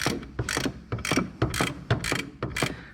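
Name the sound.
ratchet tightening a fitting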